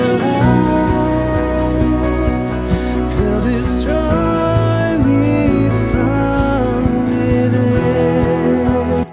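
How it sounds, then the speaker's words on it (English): A full music mix plays loudly and continuously, thick and muffled with excessive low mids that blur the instruments together, with no speech over it. "Here's an example of what a muddy mix sounds like."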